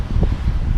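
Strong wind buffets a microphone outdoors beside a Vauxhall Corsa, a loud continuous low rumble with gusty flutter across the whole short moment and no voice.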